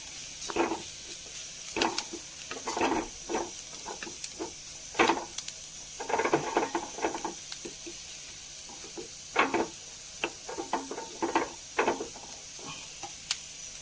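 Curry with chili powder and green chilies is stirred in a pan, irregular scraping and clattering spoon strokes over a soft steady sizzle, close and fairly quiet with no talking.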